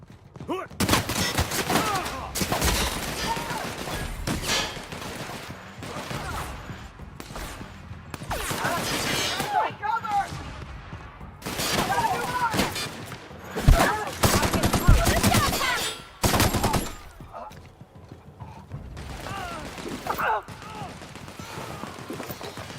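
Rapid gunfire bursts and fusillades from a firefight in the video game The Outer Worlds, loud and repeated in uneven clusters, with shouting voices mixed among the shots.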